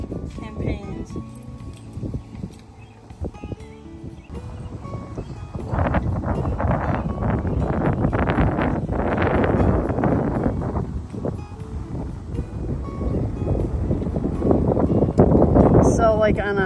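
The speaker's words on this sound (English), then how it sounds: "I'm pretty sure you're going to hear the wind in this camera" Outdoor wind buffeting a camera microphone at a state park battlefield site, rough low rumbling gusts that grow stronger midway and stay heavy, with a person talking throughout.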